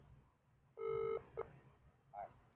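A phone call rings out: one long electronic tone, then a short blip and a softer beep, heard over faint background noise.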